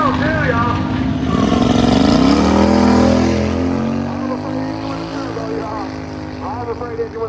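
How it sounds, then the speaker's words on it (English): Turbo 670 dragster engine roaring through a drag racing pass, a loud sustained drone that climbs in pitch around the middle, then settles into a steady high rumble fading slightly toward the end. "Check it out, we got a little dragster action."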